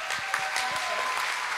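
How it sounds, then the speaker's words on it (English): A church congregation gives a round of applause to welcome a guest on a Sunday morning, brief scattered clapping at moderate level with a faint voice or two mixed in. "If you guys would give him a round of applause"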